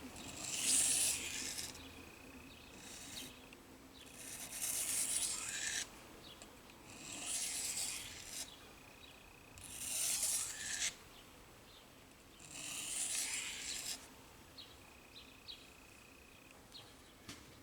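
A knife blade is drawn across a simple sharpening stone in five or six slow, even strokes, each a soft raspy scrape about a second long with short quiet gaps between, close by and alone.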